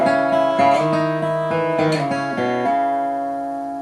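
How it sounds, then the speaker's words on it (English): The We Three Kings melody is played on a fretted string instrument, embellished with hammer-ons and a backward slide, with bright plucked notes closely spaced and the final note ringing out and slowly decaying. "I just added a hammer-on in a couple of the cases, and a slide backwards in one of the instances there."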